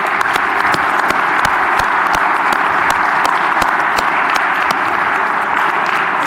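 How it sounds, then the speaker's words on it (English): An audience at a sports hall of fame induction gives a big round of applause for the booster club board, continuous crisp clapping with sharp individual claps standing out, no talking. "Let's have one more big round of applause for our Booster Club board"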